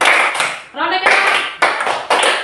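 A classroom of pupils claps a rhythmic pattern in a second round, with bursts of group clapping broken by a short pause and mixed with children's voices.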